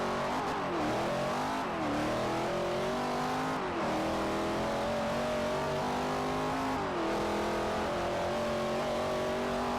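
A loud racing car engine in the video game Forza 4, tuned for drag racing, roars and revs continuously, its pitch climbing and then dropping sharply with each gear shift, close and without talk.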